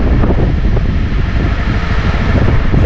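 Strong wind roaring over the summit of Mt. Sto Tomas near Baguio amid passing cloud: a steady, loud, low rumble buffeting the microphone without letup, with no voices.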